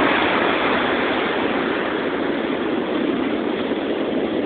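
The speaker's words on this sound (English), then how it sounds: "It's killer how the waves are kicking up the spray in the air." Ocean surf pounds a beach at sunrise, a loud, continuous roar of crashing waves and blowing spray filling the whole stretch without any voices.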